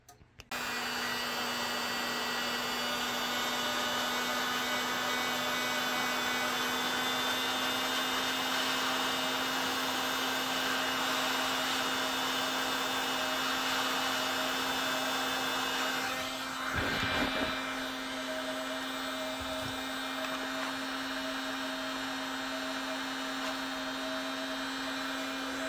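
Heat gun blowing steadily to soften holster plastic for a flared mouth on a Sig P365 X-Macro holster, a continuous loud whirring hiss lasting throughout with a brief rustle partway.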